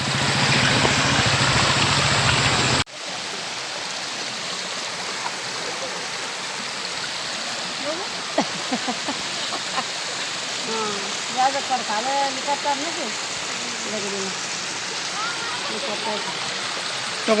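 A waterfall roars loudly at first, then gives way to a steadier rush of falling water, with people talking faintly over it.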